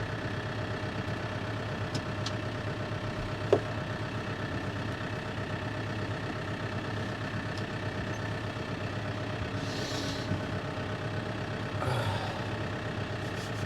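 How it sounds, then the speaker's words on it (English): A tractor engine idles steadily while warming up outdoors before bush cutting with a Kestrel and a Biskit, a constant low rumble with a few faint clicks and brief hissy bursts, no talking. "we'll just have the tractor warm up for a minute"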